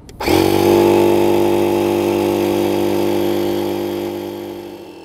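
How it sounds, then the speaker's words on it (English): A Kampa Gale electric pump inflating a Kampa awning to 12 PSI starts up and runs with a loud, steady motor drone and whine that holds constant, easing slightly toward the end. "It's not the quietest, so beware, and we'll pump it up and see what happens."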